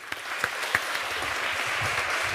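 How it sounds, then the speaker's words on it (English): Audience applause in the Cambridge Union debating chamber, a steady crowd of clapping hands with a few sharper individual claps standing out near the start, holding at an even level to the end. "one last round of applause for a remarkable fighter for freedom and democracy"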